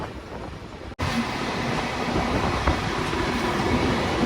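The Sanghamitra Express rolls through Katpadi railway station, a loud steady rumble of wheels and carriages that starts abruptly after a brief cut and continues without pause.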